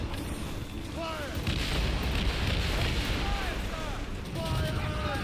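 Naval cannon fire in Assassin's Creed Rogue, repeated booming blasts over a dense, constant din of ship battle with creaking and whistling sounds, continuous and loud throughout.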